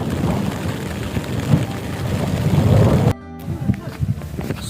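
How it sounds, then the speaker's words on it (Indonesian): Heavy rain pours steadily on a mountain campsite, a dense close hiss that drops in level partway through, with faint voices under it. "Tidak berselang lama, hujan turun deras."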